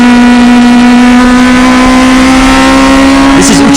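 A Toyota AE86 Hachiroku race car engine screams at sustained high revs while pushed to the limit during a racing final, a loud, steady, piercing drone close up, with a brief pitch wobble near the end.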